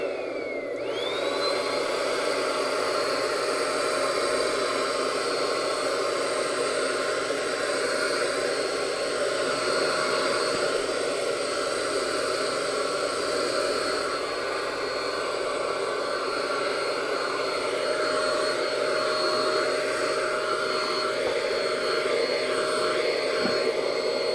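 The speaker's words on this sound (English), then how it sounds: "it's a handy little vacuum" A handy little handheld vacuum cleaner runs steadily for the whole stretch, a close, constant whirring hiss with no pauses or talk.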